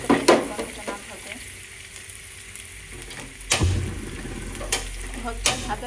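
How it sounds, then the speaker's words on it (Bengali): Onion frying in a little oil in a pan, giving a steady close sizzle with occasional stirring clatters and utensil knocks. "অল্প তেলে আমি পেঁয়াজটা একটু ভেজে নেব"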